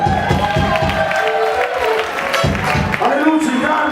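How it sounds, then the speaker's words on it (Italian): A club audience at a Furor Gallico metal show at the Black Hole in Milan claps and cheers loudly and continuously, while an amplified voice speaks over the noise. "E vorrei anche altri applausi"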